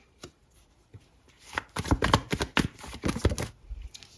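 Tarot cards being shuffled by hand: a few soft taps at first, then a dense run of papery riffles and flicks up close, with no talking.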